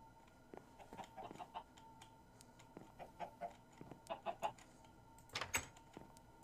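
Several chickens in the Minecraft Sky Factory video game cluck faintly, their quick, scattered clucks overlapping in irregular clusters.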